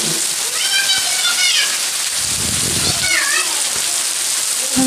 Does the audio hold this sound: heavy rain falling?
yes